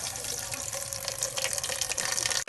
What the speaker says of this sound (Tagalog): Nalagyan ko yung kaldera ng tubig.